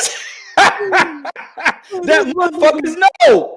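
A dog barks and yips repeatedly in quick, loud bursts close by, mixed with whining tones, while someone talks over it.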